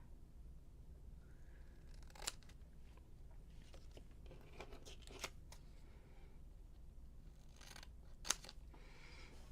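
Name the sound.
big scissors cutting paper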